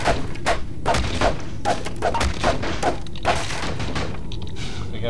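Gunfire in the video game Nightmare House 2, a rapid series of loud sharp shots in an uneven rhythm, close and punchy, tailing off into quieter game ambience.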